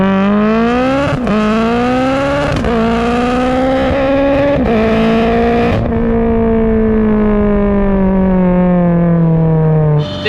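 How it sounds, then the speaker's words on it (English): A high-horsepower Mitsubishi Evo with a 4G63 four-cylinder accelerating hard, loud and close, its pitch climbing through several quick gear shifts before easing into a long falling drone. "the 4G63, it's such an aggressive sounding 4-cylinder"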